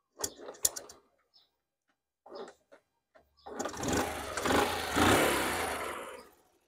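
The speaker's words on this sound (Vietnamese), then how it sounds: "để em nổ máy cho anh em nghe thử nha" A Honda Cub 70 motorcycle with a small single-cylinder engine starts after a few sharp clicks and knocks, then runs in a steady, close, buzzing idle for several seconds before cutting off.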